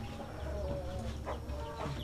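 A laying-type hen, a docile egg-layer breed, clucks while held in someone's hands, its short throaty calls rising over steady low rumbling background noise at close range.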